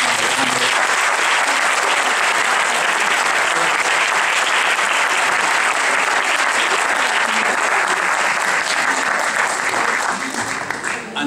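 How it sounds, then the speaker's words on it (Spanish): Closing applause from a lecture audience at a conference on visas for freedom, a loud, dense and sustained wash of many hands clapping that holds steady for over ten seconds before tapering slightly at the end. "Un aplauso para terminar."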